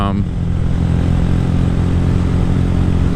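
A Honda Grom motorcycle engine drones loud and close while riding, a dense, steady rumble with rattly mechanical texture and no pause throughout.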